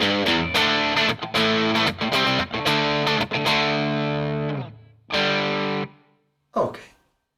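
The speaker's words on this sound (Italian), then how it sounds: "Sentiamo come va con un pick-up al ponte." Electric guitar on the bridge pickup through a Way Huge Red Llama overdrive pedal plays loud, distorted chords and picked notes in a rhythmic phrase, ending with a few sustained strums and a final stab.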